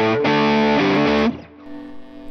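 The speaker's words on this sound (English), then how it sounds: "Let's check it out with some distortion" Loud, heavily distorted electric guitar chords strummed and left to ring, then cut short, leaving a faint buzzing hum.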